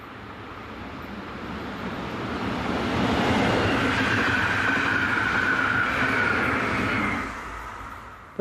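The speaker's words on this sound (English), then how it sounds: "In the opposite direction is this Class 560 unit, forming the 635 local service from Basel to Frick." A Class 560 electric multiple unit on the Basel to Frick local service rumbles past, swelling from a distant approach to a loud, steady roar at its nearest before fading back down as it moves away.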